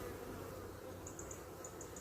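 Honeybees in a wintered hive during an inspection, giving a faint, steady, low hum close by, with a few soft, higher buzzing passes of individual bees near the end.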